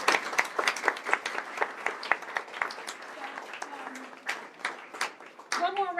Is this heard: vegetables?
no